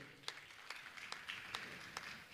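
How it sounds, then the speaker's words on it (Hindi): Scattered handclaps from an audience at a religious gathering, honouring a family: quiet, sparse claps spaced evenly, with a little murmur underneath. "मैं चाहूँगा आप इस परिवार का जोरदार ताली बजाकर इनका सम्मान करें।"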